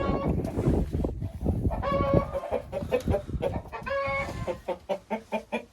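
Broody hens settled on a nest in a dark coop at night give low, close clucks and soft purring calls, with a few louder honking squawks and a rhythmic run of short clucks toward the end.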